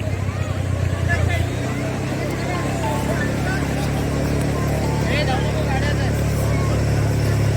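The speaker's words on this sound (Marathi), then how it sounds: "बघा आमच्या ओमची गाडी आली" A vehicle pulls up on a busy road at sunset, its steady engine rumble continuous and fairly loud under crowd babble and nearby talk.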